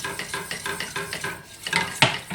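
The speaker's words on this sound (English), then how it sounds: "Keep on stirring, keep on adding the milk." Milk being whisked into a roux sauce in a pan makes a fast rhythmic scraping and tapping of a whisk against metal, close and steady, ending with a louder clink.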